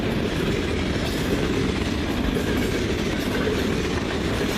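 A CN freight train led by BNSF locomotives, including an ES44C4 and an SD70ACe, rolls past at night in Ladysmith with a loud, unbroken rumble and wheel clatter, close by.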